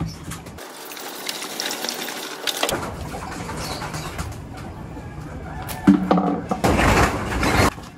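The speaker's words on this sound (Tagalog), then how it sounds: "Bigyan naman sila ng tubig" Water gushes and splashes in bursts as it is poured for pigeons, with the birds clucking and rustling close by, amid steady outdoor background noise.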